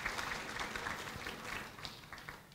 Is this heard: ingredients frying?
no